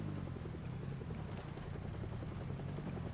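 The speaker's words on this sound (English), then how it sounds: "Oh no, the helicopter is still here." Helicopter in the video game Project Zomboid, a low, steady rotor drone with a rhythmic chop, continuous and fairly faint, with no voices.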